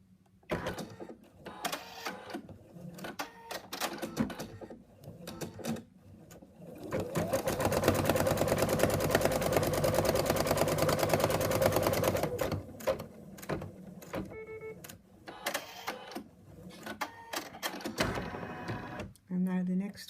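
An in-the-hoop embroidery machine stitches down a wallet pocket, a buzzing, rapid mechanical whir that runs steadily for several seconds mid-clip, with quieter stop-start stitching and a person talking around it.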